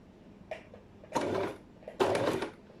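A sewing machine stitches fabric over a zip in two short, close bursts of mechanical whirring, separated by brief pauses and light clicks.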